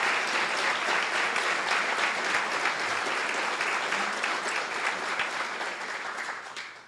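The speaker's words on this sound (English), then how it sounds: "Let's give him a round of applause." Warm, sustained applause from a crowd at a business forecast breakfast, thick and even for most of its length, then thinning and fading near the end.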